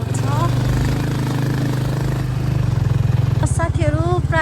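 A motorcycle climbs uphill on a road toward a temple, its engine a steady throbbing drone that turns into a pulsing putter near the end, with a person talking over it.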